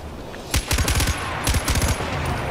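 Rapid bursts of automatic gunfire in a Far Cry 4 Valley of the Yetis firefight while defending a relay station, loud clustered volleys with brief pauses between them.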